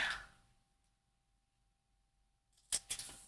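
Paper is trimmed with scissors while a gingerbread bakery lap book is made, a couple of sharp close snips after a quiet pause, preceded by a brief rustle.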